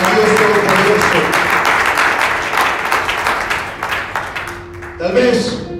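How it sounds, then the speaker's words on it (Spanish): Congregation in a church service applauding loudly and steadily, dense clapping that fades near the end as a voice begins speaking over it. "¿Cuántos le pueden dar un aplauso al Dios Todopoderoso?"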